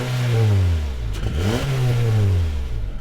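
A 2016 Honda HR-V EX-L AWD with a 1.8-liter four-cylinder and CVT revs up, dips, then climbs again. The engine drone is loud and steady, with no talking.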